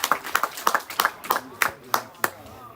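Clapping from the stands at an Eccellenza Sicilia football match, heard as distinct, fairly close, irregularly spaced claps about a few per second, thinning out toward the end, with a commentator talking over it.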